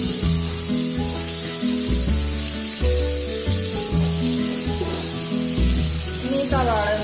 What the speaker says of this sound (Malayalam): ഇതിലേക്ക് ഒരു 2 സവാള നീളത്തിൽ എരിഞ്ഞ് ചേർത്ത് കൊടുക്കുക.